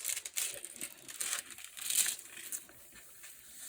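Creased plastic packaging from a diamond painting kit is pressed and smoothed flat, producing faint, close crinkling and soft crumpling in short uneven bursts.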